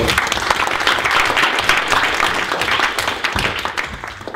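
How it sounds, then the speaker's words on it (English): An audience at a Transhumanist Party event gives a warm, sustained round of applause, a dense wash of many hands clapping together steadily for several seconds, loud and close. "let's give a warm round of applause to Amon"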